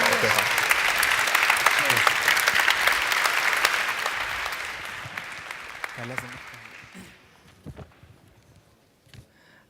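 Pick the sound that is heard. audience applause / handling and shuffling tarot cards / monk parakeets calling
audience applause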